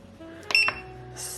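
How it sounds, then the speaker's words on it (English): A countertop soup maker signals that its soup is ready with a short electronic beep of two quick tones. The beep rings out close by against a low appliance hum and kitchen background. "The soup has just beeped, which is great."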